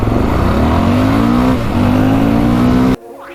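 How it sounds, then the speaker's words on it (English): A 2008 Honda TRX700xx quad accelerates hard on a top speed run, its engine droning loud and steady with rising pitch, a brief dip mid-run, then cutting off abruptly near the end. "today's the day we do the top speed run on the 2008 Honda TRX700xx"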